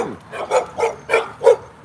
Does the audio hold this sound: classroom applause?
no